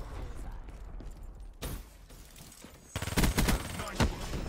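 Rapid automatic gunfire from the Vesper submachine gun in the Black Ops 3 video game: a short burst early, then a louder cluster of close, cracking rounds followed by another burst near the end.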